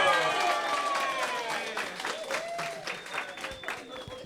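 An audience at a public hearing applauds in a sustained burst of clapping that starts loud and slowly thins toward the end, with voices talking over the applause.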